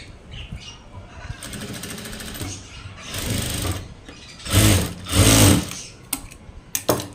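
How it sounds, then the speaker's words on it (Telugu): A sewing machine with a normal presser foot stitches thread piping onto cloth, running in short close bursts of rapid whirring that grow louder toward the end, with no talking. "కుట్టు అనేది పైపింగ్ మీద మెయిన్ క్లాత్ మీద పడకుండా మధ్యలో పడేటట్లు ఇలా కుట్టేసుకోవాలి"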